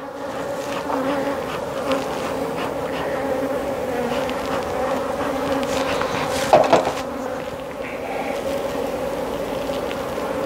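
Honeybees buzz continuously around an open beehive during an inspection, a dense close drone with individual bees flying past, and a brief louder knock or handling noise partway through.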